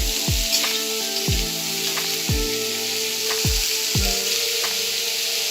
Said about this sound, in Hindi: मैं इसमें प्याज डाल रही हूँ।